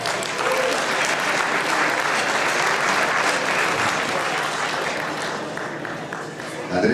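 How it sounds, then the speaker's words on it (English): Audience at an international business expo giving a round of applause, a sustained, dense burst of clapping from a large crowd that holds steady and then tapers slightly, with faint voices underneath. "let's give a round of applause for Andreas Economo"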